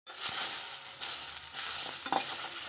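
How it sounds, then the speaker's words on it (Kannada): Onions and green chillies sizzle and fry in a pan, a steady crackling hiss broken by a few stirring scrapes, close and moderately loud, with no talking. "ಈರುಳ್ಳಿ ಹಾಕಿ ಫ್ರೈ ಮಾಡ್ಕೊಳ್ಳೋಣ."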